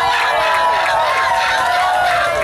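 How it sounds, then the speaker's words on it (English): A concert audience at a VIP set cheers and applauds, a continuous loud roar of mixed shouts, whistles and clapping filling the whole moment. "give yourselves a round of applause"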